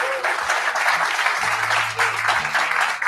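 A church congregation applauds for Jesus during a prophetic service, a steady wash of clapping throughout with a voice and faint tones underneath.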